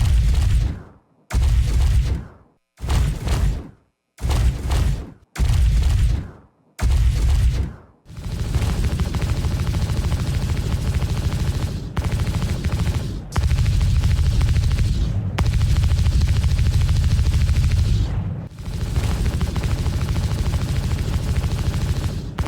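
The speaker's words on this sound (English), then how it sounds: "let's go and move on to the ship weapons" Star Citizen ship weapons in a video game fire as heavy, punchy bursts: several short blasts with clear gaps, then long sustained volleys of booming gunfire, loud and close with deep bass.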